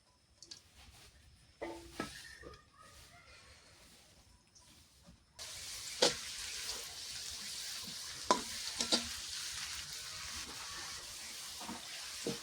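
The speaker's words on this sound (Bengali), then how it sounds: "তেলের মধ্যে পেঁয়াজগুলো দিয়ে দিলাম।" Onions dropped into hot oil for a village-style chicken bhuna: a few quiet clatters, then a sudden loud sizzle that keeps going with sharp pops and crackles near the microphone.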